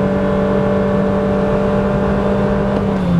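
A compact SUV launches hard from a standstill in Sport mode for a 0-100 km/h run, its engine droning at a steady, loud pitch with no gear-change steps, easing slightly near the end.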